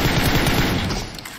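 Rapid automatic gunfire from the PUBG Mobile video game, a loud dense burst of shots fading slightly toward the end, no voices over it.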